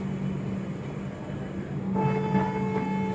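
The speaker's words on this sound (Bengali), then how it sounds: "তো আমাদের ট্রেন নৈহাটি চলে এসছে" A Sealdah–Jalpaiguri Road Humsafar Express pulls into Naihati station with a steady low rumble that grows slightly louder partway through, as thin tonal squeals rise over it.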